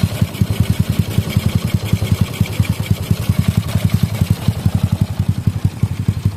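A Honda Wave 100S motorcycle engine idles steadily close by, its low, rapid putter pulsing evenly throughout with a faint mechanical clatter on top.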